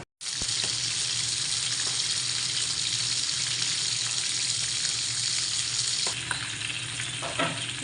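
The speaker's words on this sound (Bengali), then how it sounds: "এখানে আবারও ভাজবো 7 পিস মাছ।" River fish pieces frying in a pan of oil give a loud, steady, broadband sizzle that runs almost unbroken, with a few faint clinks and a slight dip near the end.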